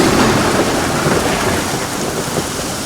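Steady heavy rain pours on a muddy trail, with thunder rumbling low beneath the dense hiss throughout.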